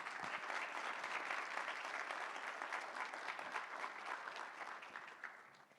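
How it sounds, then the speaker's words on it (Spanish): An audience at a law conference on the Mexican accusatory system claps in sustained applause, a dense steady wash of hands that fades slightly near the end, with no talking. "Les pido un fuerte aplauso para él, por favor."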